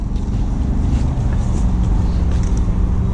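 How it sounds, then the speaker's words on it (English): A gun truck rumbling in during an airsoft game, its engine a constant low, fairly loud drone heard outdoors with faint background noise and no clear speech. "Gun truck inbound, keep your eyes up."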